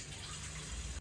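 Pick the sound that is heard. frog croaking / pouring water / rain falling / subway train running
pouring water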